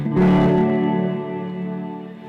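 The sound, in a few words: reverb effect on a sound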